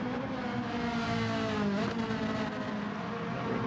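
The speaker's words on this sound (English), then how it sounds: "Remember that he's revving that car out." A race car in Gran Turismo 7 revs hard and continuously, a loud, close engine whine rising and falling in pitch with a tire squeal in the mix.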